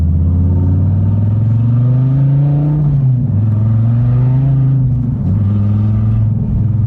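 Engine of a 2014 Dodge Viper TA race car revving hard while driving, a loud, steady roar with pitch climbing, dipping at gear changes around three and five seconds, then rising again.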